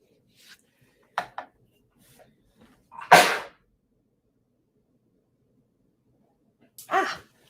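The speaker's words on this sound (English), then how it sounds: "Ah, I sneeze." A person sneezes once, a short sharp burst near the microphone, after two brief faint sounds and followed by another breathy burst a few seconds later, with quiet gaps between.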